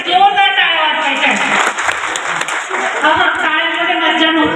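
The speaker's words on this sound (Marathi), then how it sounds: "जे मान्यवर आपल्या कार्यक्रमाला उपस्थित आहेत त्याच्यासाठी जोरदार टाळ्या वाजवायच्या" Loud clapping from a crowd at a Vishwakarma Jayanti community gathering, honoring the dignitaries present, rising and falling in bursts over a few seconds with voices mixed in.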